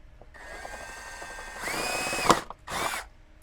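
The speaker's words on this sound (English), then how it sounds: "drill through the top" A power drill whines steadily, then bites through the metal top tray of a Ford truck with louder grinding bursts, stopping briefly before a second short burst; close and loud.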